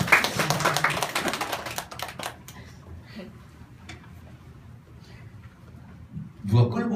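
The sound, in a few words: audience clapping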